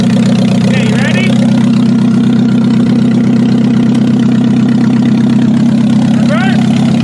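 An engine idles loudly and steadily close by, with a strong, continuous low drone and rough mechanical texture throughout. Brief higher whines rise near the start and end, and people talk over it.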